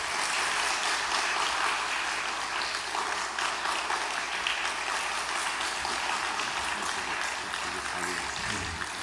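Sustained applause from a large congregation at a dawn prayer service welcoming a pastor, steady and full for several seconds with no one speaking over it.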